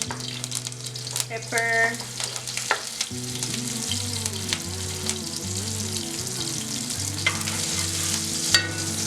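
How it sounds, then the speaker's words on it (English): Vegetables sauté in a pan with garlic and thyme, a steady soft sizzle and occasional stirring running beneath continuous background music, with a voice briefly speaking. "So I'm gonna saute my vegetables now, add in the garlic"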